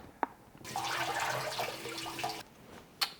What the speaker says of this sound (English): I'm just going to give it a little rinse